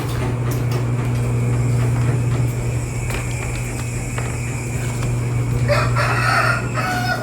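A rooster crows loudly and nearby over a steady low hum, its call stretching across the clip with a brighter burst near the end.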